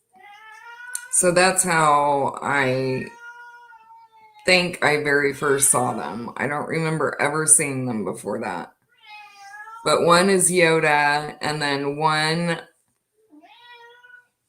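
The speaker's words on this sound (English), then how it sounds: "My cat, he might be demanding for a minute because he's not going out right now." A domestic cat meows repeatedly and demandingly, wanting to be let outside, its calls mixed in close under a person's continuous talking indoors.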